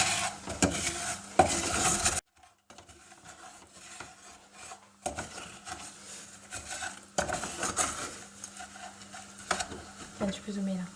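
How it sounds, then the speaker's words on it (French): Pink pralines being stirred in a pan with hot sugar, giving scraping, rasping bursts of utensil against pan that come and go with short pauses, close and moderately loud. "Et là, je ne vais pas m'arrêter de mélanger."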